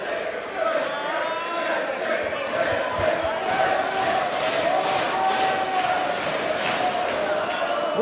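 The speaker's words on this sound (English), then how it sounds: "an ovation going out here from the jam-packed crowd at Turner Hall in Milwaukee, Wisconsin" A jam-packed crowd at a Turner Hall wrestling match in Milwaukee, Wisconsin roars in a continuous ovation, with cheers and shouts rising and falling throughout.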